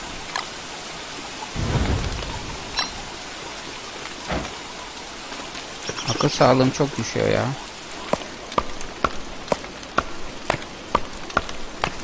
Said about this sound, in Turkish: Yağmur da ne biçim yağmur ya, yağıyor. Dinmedi bir türlü.